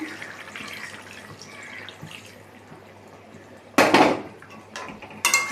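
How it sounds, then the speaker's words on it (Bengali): A little water is poured into a curry simmering in a pan, heard as two short, close splashing bursts near the end over a low, steady kitchen hum. "এবারে অল্প করে একটু জল দিয়ে দিলাম"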